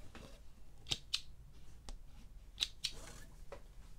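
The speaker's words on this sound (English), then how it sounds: "Don't forget to snip all your little threads" Scissors snip loose threads on a sewing project made from placemats and potholders, giving about five short, crisp metallic cuts in quick pairs, close up against a quiet room.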